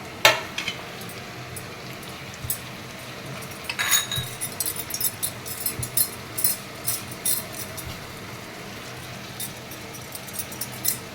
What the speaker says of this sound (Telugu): నాలుగు స్పూన్లు ఆయిల్ వేసుకొని అది వేడెక్కాక అప్పుడు అందరూ ఉల్లిపాయలు, పచ్చిమిరపకాయలు వేసుకోవాలి.